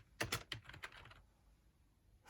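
Quick run of keystrokes on a computer keyboard running AmigaOS 4.1, several close clicks in the first second, then quiet room hiss.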